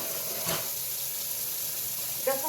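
Tap water running into a kitchen sink while dishes are washed, a steady soft hiss with a couple of brief clinks or splashes near the start and end.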